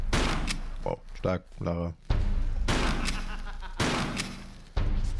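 Shotgun blasts in Tomb Raider 3 Remastered, a couple of loud booming shots separated by gaps, with someone speaking and game voice lines in between.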